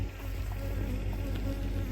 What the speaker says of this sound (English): I think the bees are ready for us to go away.